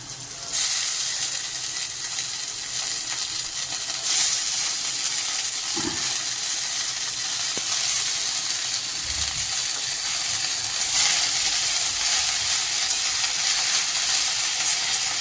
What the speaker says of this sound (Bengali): শাক দিয়ে একটু নেড়ে নিতে, নুন হলুদ দেবে।